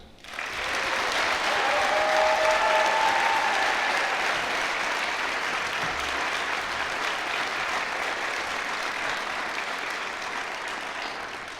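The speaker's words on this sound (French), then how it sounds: "c'est le temps d'applaudir chaleureusement les nouveaux docteurs" Sustained applause from a large crowd at a university graduation ceremony, steady and loud for about eleven seconds before thinning slightly at the end.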